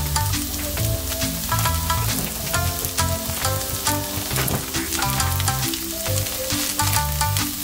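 Vegetables such as chives, carrot and cabbage stir-fried in a pan for Okinawan tofu champuru produce a constant bright sizzle, heard beneath prominent background music.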